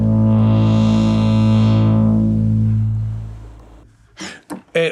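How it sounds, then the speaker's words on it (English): A synthesizer runs through a Moog ladder filter, giving a loud, fat, sustained harmonic-rich drone that swells, then dims as the filter closes before fading out. Brief speech follows at the end. "Next up, we have the super fat sounding moog ladder filter."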